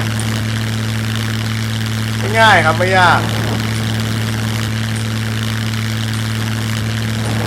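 Propeller airplane engine in the survival video game SCUM, a steady droning hum running through the whole stretch while someone talks briefly over it midway.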